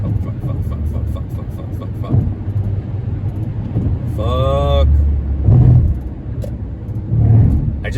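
A car drives in traffic in the diamond lane, a steady low engine and road rumble throughout, with a brief whine and a few louder swells, mostly under people talking.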